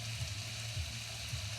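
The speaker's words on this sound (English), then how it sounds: "you can hear it sizzling. So the bacon is cooking." Bacon sizzles in a frying pan with a faint, steady crackling hiss and a soft low hum beneath it, heard briefly without any talk.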